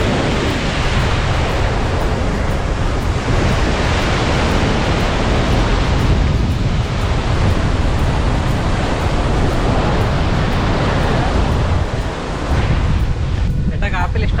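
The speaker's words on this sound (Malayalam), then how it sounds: "അതിൻ്റെ അപ്പുറം തിരമാല ഇരയ്ക്കുന്ന കടൽ" Sea surf breaks on the shore beyond a bund, with a backwater lake on the other side, at Kappil near Kollam; a loud, steady roar of waves mixed with wind noise continues throughout, with no distinct single crashes.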